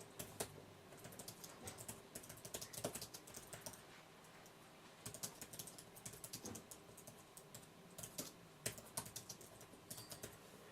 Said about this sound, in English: The keyboard is very easy to type quickly on.